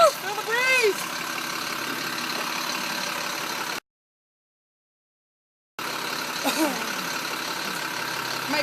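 A truck engine idles during a pre-trip inspection with a faint, steady low rumble. The sound drops to silence for a couple of seconds in the middle, and faint chirps are heard near the start.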